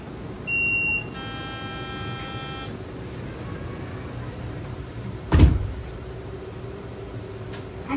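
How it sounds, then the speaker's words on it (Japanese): On an Utsunomiya Light Rail tram, a short electronic chime and a string of tones ring out, then a door thuds shut a few seconds later, all over a steady low cabin hum. "ドアが閉まります。"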